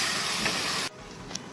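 Potatoes frying on a medium flame for aloo chana give a dense close sizzle that cuts off abruptly, leaving a faint hiss and a small click.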